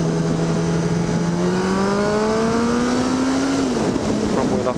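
A Honda CB1000R motorcycle accelerates hard from about 40 to 70 mph, its engine note climbing steadily through the gears, loud and close, with a brief dip near the end before it settles.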